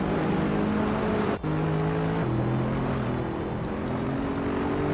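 Engine of a Fiat Tipo Competizione race car in a racing video game, a loud steady drone with shifting pitch and a brief dip as it changes gear, held continuously with no talking.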